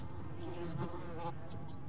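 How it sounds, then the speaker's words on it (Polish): Flies buzzing around the player in the video game Metro Last Light, a brief steady insect drone that stays close and continuous throughout. "Muchy!"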